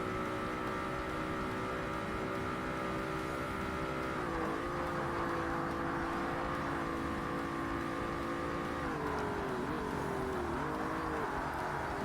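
Porsche 911 GT endurance race car in Forza Motorsport, its engine holding a loud, steady drone with a few pitch drops as it shifts or lifts off, no voice over it.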